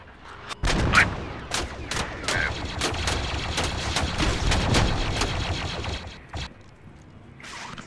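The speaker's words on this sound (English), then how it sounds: "The tank is trying to kill us so hard." In the Squad video game, a tank fires at players amid a dense run of sharp gunshots and booming blasts that keep crackling for several seconds before thinning out, with faint voices underneath.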